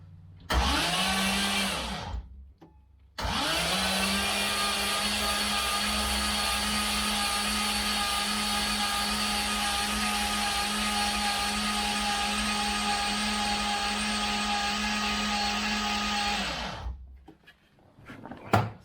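An engine being cranked over on the starter to check for oil pressure, with the fuel pump fuse pulled so it cannot fire: a steady droning crank runs briefly, pauses, then continues for about fourteen seconds before stopping.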